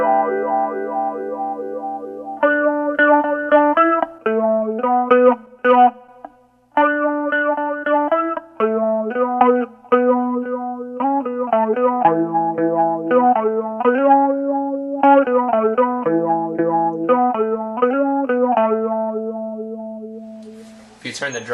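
Gibson SG electric guitar played through an Interstellar Watermelon filter pedal into a customized tube amp, a loud, continuous picked melodic riff with a sweeping, vowel-like filter warble over the notes.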